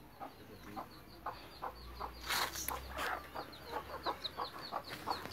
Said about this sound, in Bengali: দেখেন এগুলো সব আমার মুরগি।